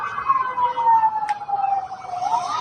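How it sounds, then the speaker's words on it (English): An ambulance siren wails in the distance with a slow rising and falling tone, faint and steady in the background with no one speaking. "What you hear in the background? It's an ambulance,"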